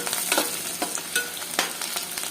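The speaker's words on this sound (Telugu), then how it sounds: "ఉల్లిపాయలు, మిరపకాయలు, కరివేపాకు అన్నీ వేసేసుకున్నాము. తిరగమాతలోనే" Onions, green chillies and curry leaves fry and sizzle in hot tempering oil for egg curry, a steady crackling hiss broken by a few scraping stirs, close and alone.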